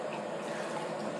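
Tap water runs into a container at a kitchen sink, a steady faint hiss of filling liquid with no breaks.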